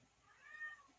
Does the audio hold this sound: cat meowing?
yes